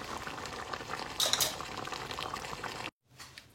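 Meat and prune tagine simmering as it finishes cooking, a soft continuous bubbling with a brief metallic clink of a lid or utensil, ending abruptly in near silence.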